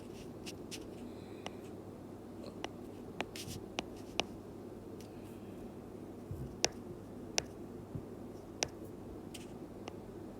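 Pen strokes and light taps of handwriting while a drawing is corrected during a tutorial, quiet scratchy marks and scattered sharp clicks over a low steady room hum, with no talking.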